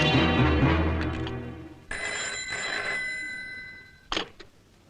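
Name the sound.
telephone ringing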